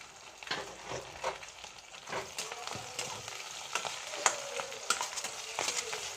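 Onion frying in a pan with bay leaf, dried red chilli and salt, a close, steady sizzle broken by scraping and stirring clatters from a spatula, no voices.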